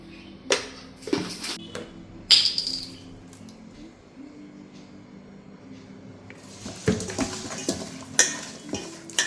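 Fish heads being mixed by hand in a pot with chili, turmeric and coriander powders, salt, curry leaves and oil for a fish-head curry. The sound is made up of intermittent clinks and scrapes of metal, with wet squishing and quiet gaps in between.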